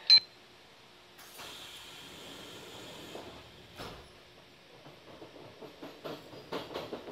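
A Kintetsu express train bound for Nagoya, heard from inside the car as it departs: a beep, a door sliding shut with a thump, then low rolling rumble and faint rail clicks building gradually.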